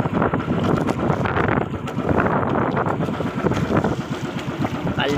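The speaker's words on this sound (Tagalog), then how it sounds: "ang lakas naman ng hangin" Strong wind roars and buffets the microphone continuously, with a rushing, turbulent noise like being out on open water.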